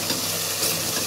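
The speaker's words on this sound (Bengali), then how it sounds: "এবার আমি একটু মশলাটা এর সাথে কষিয়ে নেব।" Spices such as Kashmiri red chilli, cumin and coriander powder frying with a soya bean and potato curry base, a brief dense sizzle and hiss close up, no talk.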